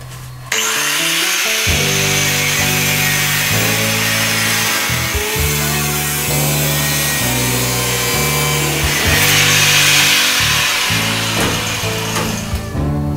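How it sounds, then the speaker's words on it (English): An angle grinder cuts through badly rusted bolts while removing the cab from an old rusty vehicle, a loud, steady, harsh grinding whine that runs continuously and close up with slight shifts in pitch. "sometimes you have no choice than grinding off the bolts, because some of them are so rusted away that you have no other option than grinding it"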